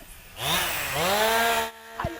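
A chainsaw engine revs up, rising and falling in pitch over a couple of seconds, then drops away with a brief rattle at the end.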